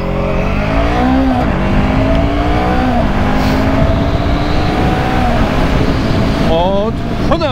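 A Voge 500 AC retro naked motorcycle accelerates hard from standstill to 100 km/h, its engine note rising steadily through repeated gear changes. The exhaust roars loudly and continuously, with heavy wind rush running underneath.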